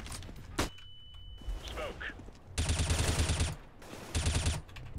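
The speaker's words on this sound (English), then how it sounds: "Throwing flashbang." A flashbang thrown in the tactical shooter CS:GO goes off with sharp bursts and a high ringing whine, followed by two loud, dense gunfire-like blasts that layer over game noise.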